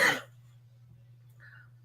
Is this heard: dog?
no